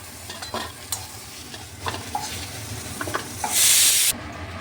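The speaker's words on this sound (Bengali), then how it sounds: "ঢাকা দিয়ে একটু ভালো করে ভেজে নিচ্ছি" Bitter gourd frying in a pan as it is stirred, with rhythmic spatula scrapes and clacks over a low sizzle, then a loud burst of hissing toward the end.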